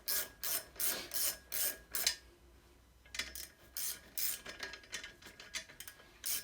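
Bolts being tightened down on a bench grinder swivel arm mount. Close, rasping ratchet-like strokes come in a steady run, pause for about a second, then resume in quicker, uneven bursts.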